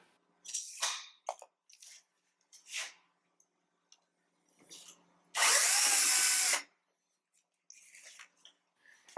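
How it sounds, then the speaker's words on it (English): A power drill whirs loudly in a single burst of about a second, boring a 1/2-inch hole 5 inches deep into the bottom of a wooden newel post, surrounded by scattered knocks and scraping clicks. "Drill a 1/2 inch hole by 5 inches deep."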